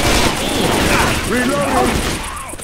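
Gunfire in Left 4 Dead 2 forms a dense, noisy volley up close, mixed with game sounds and fading toward the end.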